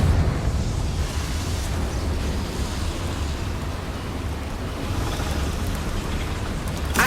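A sustained roaring, crackling blast from a Confringo fire spell in the Hogwarts Legacy video game, loud and dense throughout with no pause.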